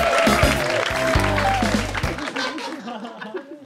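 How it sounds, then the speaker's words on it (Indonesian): Applause and cheering from a stand-up comedy audience fill the room, a dense clapping texture with a short musical sting underneath near the start. "tepuk tangan untuk Abadi."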